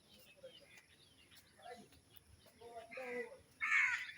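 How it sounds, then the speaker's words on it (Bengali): Birds call softly in the distance in the early morning, then a crow caws loudly and harshly near the end, against a quiet outdoor background with a breeze through a tree. "অনেক ভালো লাগে এরকম পাখির ডাক"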